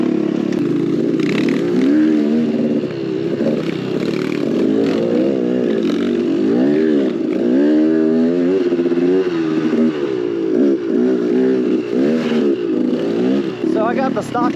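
An X-Pro Templar 250cc dirt bike rides a trail with its engine droning and revving steadily throughout. The pitch rises and falls as the throttle changes, and clattering and wind noise sit close to the mic.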